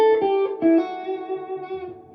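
Electric guitar with heavy distortion playing a short blues lick in A, ringing sustained notes with a few quick picked changes, loud and close with no talk.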